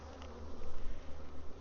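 Honey bees in a hive with a laying worker, buzzing in a dense, steady drone that swells slightly, close and loud with no voices.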